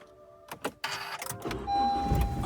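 A Japanese car's engine cranks and catches on a snowy early morning, then settles into a steady idle, heard close up.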